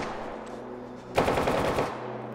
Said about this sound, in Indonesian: lalu terdengar suara tembakan